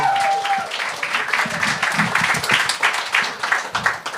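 A live studio audience of a comedy show applauds, uneven bursts of clapping with some chatter and movement underneath, moderately loud and close.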